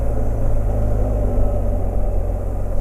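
A BMW 1250 GS motorcycle engine runs with a steady, close low rumble and slight fluctuations in level, with no one talking over it.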